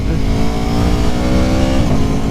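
A 2019 Aprilia Tuono Factory motorcycle in race mode pulls away, its engine roaring loudly and steadily at close range, the pitch holding near constant with a slight rise as it accelerates.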